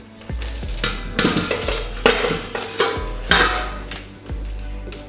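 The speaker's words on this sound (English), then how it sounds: "now we will detach it with tray" Set peanut chikki being prised off a metal tray: a series of sharp metallic knocks and clanks, about eight in all, irregularly spaced, close and fairly loud, with a faint rattle between them and no talking.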